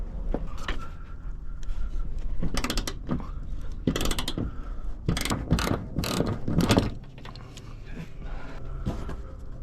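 A ratchet wrench loosening bolts on the front upper control arm of a 2015 GMC Yukon Denali 4x4, with bursts of rapid clicking and metallic creaks up close, pausing between pulls, then a quieter stretch.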